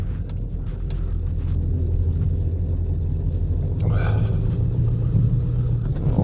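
A vehicle in first gear pulls slowly out of a farm shop, giving a steady, close low engine rumble with a slight rise in pitch toward the end, no talking over it.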